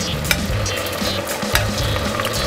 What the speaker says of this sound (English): I'm gonna throw the shrimp in there,